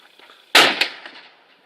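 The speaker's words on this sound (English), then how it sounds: "You aren't gonna shoot that gun loud." A single sharp gunshot cracks at an outdoor shooting range, followed by a brief echoing report and quick decay, with faint background noise around it.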